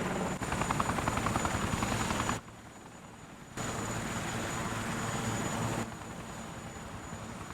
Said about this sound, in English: Nice helicopter.